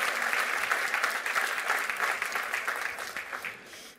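An audience at a 2024 New Year's greetings ceremony breaks into sustained applause, steady dense clapping that carries on for several seconds and thins slightly toward the end.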